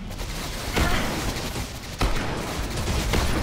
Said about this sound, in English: I'm using my shotguns on all these enemies.